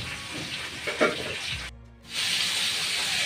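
Potatoes and yardlong beans sauté in a pan with chili powder, salt and turmeric mixed in water, giving a steady close hiss and sizzle that cuts out briefly and then returns strongly.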